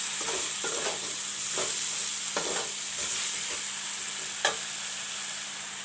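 Soya chunks stirred in a hot pan for potato curry, a steady sizzle with repeated soft scrapes of the spoon and one sharper clink near the end.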